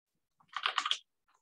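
A short burst of quick computer keyboard keystrokes, an email address being typed, lasting about half a second, close and fairly quiet, with a couple of faint isolated clicks after.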